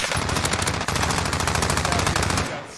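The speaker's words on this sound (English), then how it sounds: "why is her gun so loud?" Rapid automatic gunfire from a weapon in Call of Duty Warzone rattles out in a loud, continuous burst, with one brief break, before cutting off near the end.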